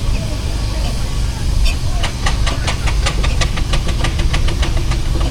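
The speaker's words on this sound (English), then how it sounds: "It's a beautiful Burrell steamroller, this one here. Made in 1924." A 1924 Burrell steamroller traction engine running at a steam engine parade at Parham Park, with a low engine rumble under a fast, regular series of steam chuffs that start partway through, loud and close.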